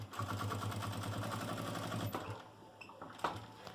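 A domestic sewing machine runs a fast, even stitch along a seam in a transparent plastic pouch, a rapid mechanical chatter for about two seconds before stopping, followed by quiet handling clicks and rustles.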